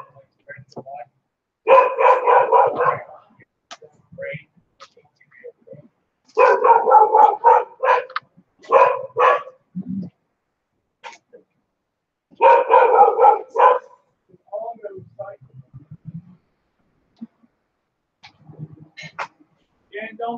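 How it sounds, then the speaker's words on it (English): Dog barking in loud bursts of several rapid barks, separated by pauses, at an outdoor ranch gathering while salmon is being processed, with people talking nearby. "That dog's got to learn to behave."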